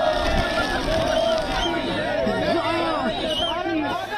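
Large Indian diaspora crowd gathered to welcome Prime Minister Modi in America, a dense, continuous roar of many overlapping voices with chatter and occasional raised shouts, close and steady throughout.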